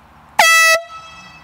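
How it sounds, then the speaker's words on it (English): A single loud air horn blast lasting under half a second, sharp and close, in a prank setting with quiet surroundings before and after. "Why do you have an air horn?"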